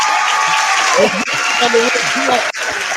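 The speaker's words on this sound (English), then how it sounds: "let's give him a round of applause" Applause from a live talk-show audience welcoming a guest coach, a steady broadband wash of clapping lasting a few seconds with a voice talking over it.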